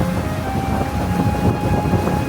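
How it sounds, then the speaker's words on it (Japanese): A cruise boat's engine drones steadily while water parts at the bow, heard up close on a calm marsh lake, with wind buffeting the microphone throughout. "力強いエンジンの音と船がかき分ける水の音だけ。"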